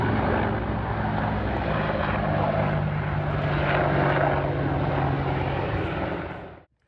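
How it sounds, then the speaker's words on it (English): A loud, steady Apache helicopter drone with a throbbing rotor hum as it flies overhead, holding throughout, then cutting off abruptly near the end. "That's what an Apache looks like and sounds like."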